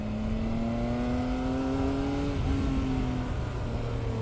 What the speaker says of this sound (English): This engine sounds nice.